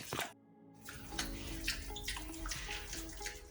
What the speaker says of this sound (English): when they press, the water comes out